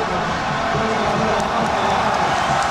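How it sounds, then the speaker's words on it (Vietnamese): Dense, steady roar of a stadium crowd at a Vietnam national team football match, cheering and applauding continuously at fairly close range with no clear breaks. "Anh xứng đáng được nhận những tràng vỗ tay."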